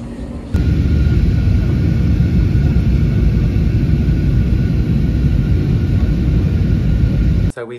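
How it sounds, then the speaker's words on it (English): An airliner rolls down the runway, heard from inside the cabin as a loud, steady low rumble and roar that holds constant for several seconds before cutting off abruptly. "We're rolling down the runway."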